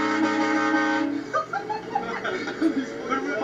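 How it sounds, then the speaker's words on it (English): A train horn fitted to a car gives one sustained, steady blast lasting about a second. Quiet laughter and chuckling follow. "When I got mine, it came with a train horn."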